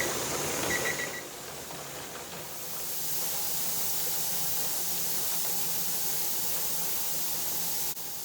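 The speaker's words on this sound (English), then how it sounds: "There's now a steady stream coming from the vent pipe." Steam hisses steadily from the vent pipe of a pressure canner full of pork broth, a continuous broadband rush that swells slightly after a brief dip and holds even, close and fairly loud with no talking.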